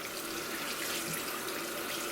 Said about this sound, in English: I'm gonna do it with tap water.